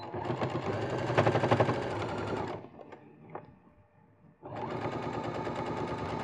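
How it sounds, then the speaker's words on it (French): A sewing machine stitching a zipper seam runs in two close, loud bursts of fast, steady rattling, with a short pause of faint handling clicks between them. "Je peux faire ma couture par-dessus la première."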